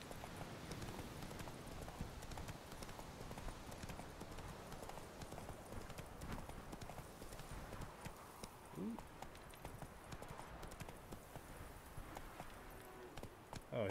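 Roach the horse galloping in The Witcher 3, a fast, steady clip-clop of hooves over a low rumbling game soundscape, faint and continuous, with someone talking at times.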